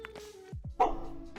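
A dog in a living room gives a couple of short barks and yips, loud and close, between quieter stretches of low household noise.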